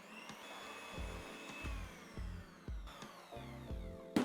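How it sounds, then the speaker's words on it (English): Eggs, erythritol and a teaspoon of vanilla mixed until frothy for a keto pound cake: a steady, fairly quiet electric whirring with repeated low rhythmic thumps of the mixer against the bowl, heard alone. "we're just going to give this a mix until the eggs are a little bit frothy"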